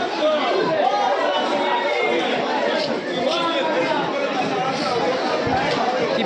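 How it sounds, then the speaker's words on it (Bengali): Dense crowd chatter fills a packed Digha sea beach during New Year celebrations, a steady loud babble of many overlapping voices with no pauses. "যা ভিড়, বাপরে বাপ"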